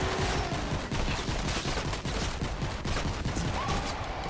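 Rapid pistol gunfire fills a Fortnite: Save the World boss fight, a steady run of dense close shots with no pauses, loud and continuous over the whole stretch.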